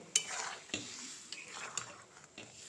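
A potato and pea curry is stirred in a pan after hot water is added, with a spoon scraping and clinking against the metal in irregular strokes over a soft simmering hiss, fairly quiet.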